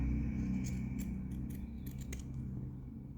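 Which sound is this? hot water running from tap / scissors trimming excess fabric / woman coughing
scissors trimming excess fabric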